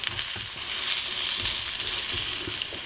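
A honey beer pancake, just flipped and cooking in a little butter, sizzles and crackles steadily in a frying pan, loud and close with no talking.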